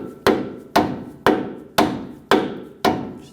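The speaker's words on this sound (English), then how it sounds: "Just gonna give it a couple taps with a rubber mallet." Six evenly spaced taps from a rubber mallet knocking a new bushing into the front lower control arm of a 2011-2018 Ram 1500 3.6L V6, each a sharp, close thud with a short ringing decay.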